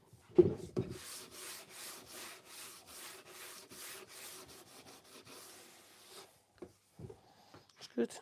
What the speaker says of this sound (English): I never use something like this hand sander on corners, unless that's my intention.